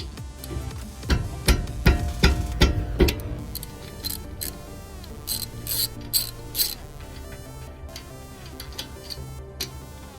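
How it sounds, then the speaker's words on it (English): A 14 mm wrench removing an Acura RDX brake caliper bolt, bursts of close metallic ratchet ticking and scraping, louder at first then lighter clicks. "we're going to use a 14mm to remove this bolt"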